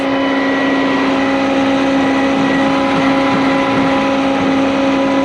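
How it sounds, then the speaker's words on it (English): A concrete pump truck's hydraulic front outriggers jack up under a loud steady whine and engine drone, with strong constant hum tones and no break in the noise. "Now I'll jack my front outriggers a little bit more"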